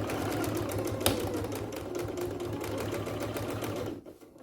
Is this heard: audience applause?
no